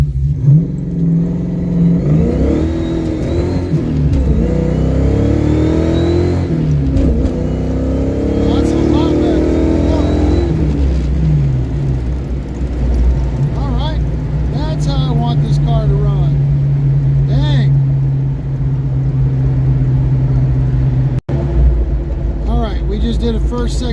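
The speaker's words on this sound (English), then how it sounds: "Did a first, second, third gear pull, got up to highway speed or cruising speed." A carbureted project car pulls hard through first, second and third gear, its engine note climbing and dropping with each shift before settling into a steady cruising drone, loud and close inside the cabin, with a voice talking briefly.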